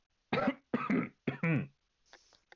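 Four short, harsh coughs in quick succession, close and fairly loud, followed by a faint raspy breath.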